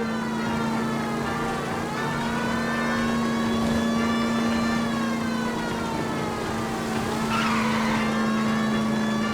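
A car engine drones steadily during a police pursuit of a stolen green Kaiser Frazer in L.A. Noire, with a wailing siren-like tone on top and a brief tire skid near the end.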